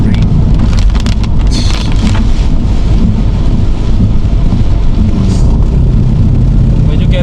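Heavy rain falling on a drive from Manila to Tagaytay, a dense, loud, continuous roar with steady hiss that stays unbroken throughout.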